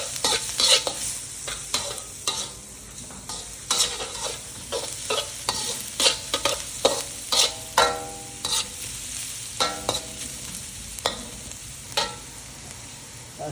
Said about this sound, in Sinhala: කැරට් එක ලාවට බැදලා තියෙන්නේ ගොඩාක්ම බදින්නේ නැහැ